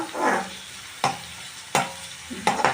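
Chopped onion sizzles in hot oil in a pan, with a steady frying hiss broken by several distinct scraping stirs, close up and without talking.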